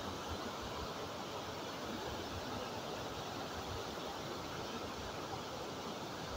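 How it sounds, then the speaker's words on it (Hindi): Hillan waterfall in Kashmir pours with a dense, steady roar of rushing water, loud and continuous without a break, with no voices over the broadband noise. "यहाँ तक बहुत तेज़ पानी आ रहा है।"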